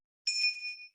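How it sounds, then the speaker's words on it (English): A single bright notification bell ding rings out clearly on its own, a clean metallic chime that sustains briefly and fades within about a second. "That's our bell, right? To notify you."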